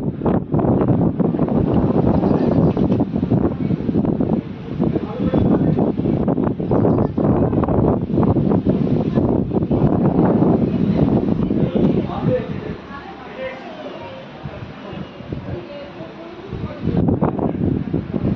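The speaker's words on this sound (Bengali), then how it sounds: "প্রচন্ড হাওয়া, প্রচন্ড হাওয়া।" Strong wind buffets a phone microphone on an apartment balcony under a cloudy sky, a loud rumbling gusty roar that eases briefly near the end while a person talks over it.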